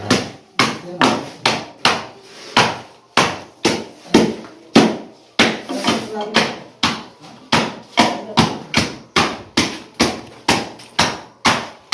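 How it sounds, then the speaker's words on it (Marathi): A wooden plank is struck repeatedly to level fresh plaster on a house interior wall. Dozens of sharp, evenly paced thuds continue close by for the whole stretch, with faint voices now and then. "आता हे मारून फळी मारून लेवल करून घेतो"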